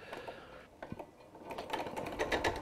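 Domestic sewing machine stitching at a 2.7 stitch length, its needle mechanism chattering in short bursts that grow busier and louder toward the end, heard close up with no talking.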